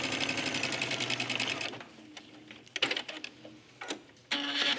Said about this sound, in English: with right sides together, I'm just going to just do a quarter of an inch stitch